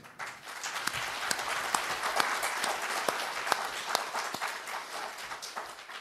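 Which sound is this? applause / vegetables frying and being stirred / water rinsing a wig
applause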